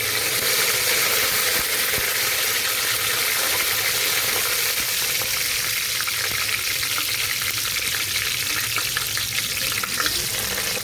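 Whole spices for tempering sizzle in two tablespoons of hot oil in a pan for Telugu coconut rice: a loud, continuous crackling fry with a bright hiss and occasional stirring scrapes, with no talk.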